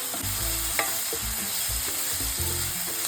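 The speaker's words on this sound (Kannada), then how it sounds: "ಈರುಳ್ಳಿ ಸ್ವಲ್ಪ ಬ್ರೌನ್ ಕಲರ್ ಬರೋ ತನಕ ಹುರ್ಕೊಳ್ಳೋಣ" Onions fry with cumin in a pan, a close, constant sizzle broken by repeated scraping strokes of a spoon as they brown, with no talking.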